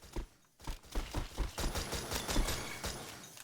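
Rapid bursts of gunfire from a fast-firing weapon in a video game, a quick run of sharp shots with a short pause near the start, loud and close.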